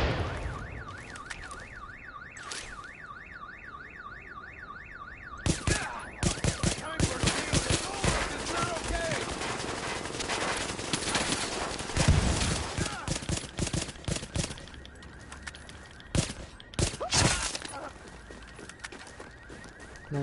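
Machine gun fire in the shooter game The Division bursts in rapid, loud volleys of sharp cracks, with a warbling alarm-like tone and scattered shots before the heavy fire.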